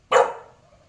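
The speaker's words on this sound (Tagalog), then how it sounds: "Bakit aso?" A single sharp dog bark rings out at a resort, loud and close, with a short tail fading into quiet.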